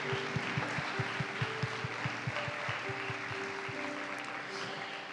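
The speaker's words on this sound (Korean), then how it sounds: "우리의 찬양을 받으신 하나님께 다시 한번 감사의 박수 올려드립시다" A congregation applauds during a Sunday worship service at a university church. The broad, steady wash of clapping runs throughout over low, evenly spaced thumps and faint sustained tones.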